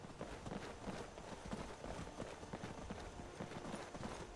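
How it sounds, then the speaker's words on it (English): A herd of elk in the Skyrim video game runs past, a dense, continuous patter of hoofbeats on ground, moderately close and steady throughout, with no talk. "there's a whole herd of elk around here"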